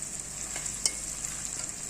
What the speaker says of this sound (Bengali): এই দেখো পেঁয়াজটা কিন্তু সুন্দর করে দেখো ভাজা করে নিলাম